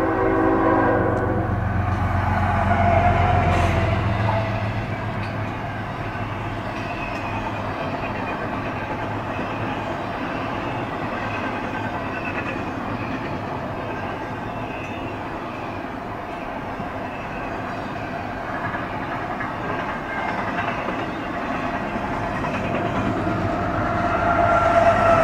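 A freight train rumbles past steadily for a long stretch, opening with a horn blast, then continuous wheel and rail noise with clicking joints, fairly close.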